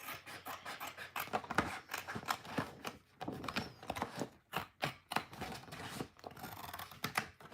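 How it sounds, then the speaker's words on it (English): Scissors snip through paper pages for a handmade mini book, a close run of crisp, repeated cuts with brief pauses between strokes and no speech. "Since I already cut the pages from here, we're just gonna cut."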